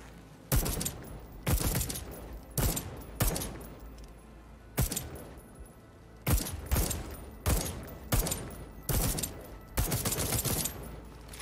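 Old-fashioned firearm shots ring out in Deathloop, about a dozen sharp, loud cracks fired in uneven bursts, some close together and others spaced by short pauses, standing alone over quiet room tone.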